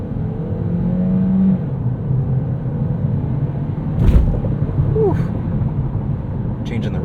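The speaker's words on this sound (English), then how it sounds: "let's do one more acceleration here in automatic mode, but we'll leave it in eco this time" A 2023 Kia Niro plug-in hybrid accelerates at full throttle in eco mode, heard from inside as a steady engine hum with rising tonal whine over road rumble; brief bumps and a voice come in partway through.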